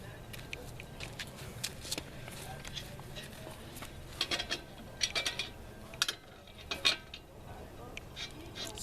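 A lug nut wrench works the lug nuts on a car wheel while a flat tire is changed. It makes faint, scattered metallic clicks and clanks, with a few sharper knocks in quick clusters over a low background.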